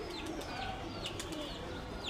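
A Giribaz flying pigeon coos softly a few times at close range, with faint chirps over a quiet background.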